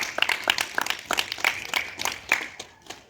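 A small audience at a school debate gives a round of applause for a speaker, scattered sharp claps up close that thin out and fade after about three seconds.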